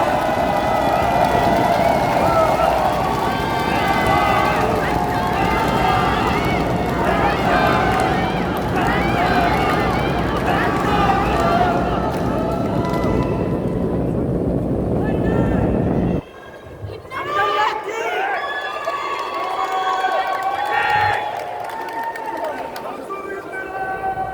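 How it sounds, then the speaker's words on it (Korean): Loud crowd cheering and applause at a Democratic Party national convention rally in Iksan, Jeonbuk, as a council candidate is introduced, a dense roar lasting about sixteen seconds before cutting to a quieter hall. "여러분 뜨거운 박수와 함성으로 맞아주십시오"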